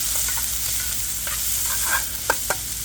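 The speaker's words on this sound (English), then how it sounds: "So I'm going to put our onions in, like that. I'm going to stir." Onions sizzle steadily in hot olive oil in a sauté pan, with a few soft scrapes of stirring breaking through the continuous frying hiss.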